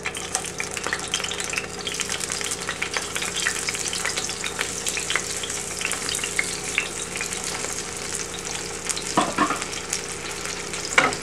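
Vegan fish fillets fry steadily in hot oil, a dense, continuous sizzle and crackle lasting throughout with a few sharper pops near the end; no one speaks.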